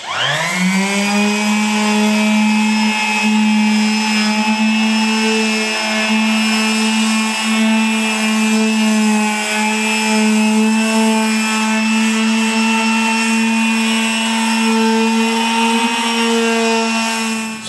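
A power sander works across a table with 150 grit sandpaper, a loud close motor whine that spins up quickly and then holds a steady pitch with slight wavering as it moves over the surface.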